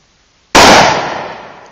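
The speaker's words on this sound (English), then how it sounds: "I want to see him shoot the bowling pin" A rifle shot fired at a bowling pin target outdoors: one sharp, loud crack that cuts in abruptly, then a long decaying ring and echo lasting more than a second, with no talking.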